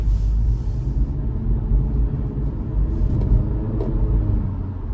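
A 2023 Acura Integra with a CVT accelerates, its steady low engine drone and road rumble heard from inside the cabin.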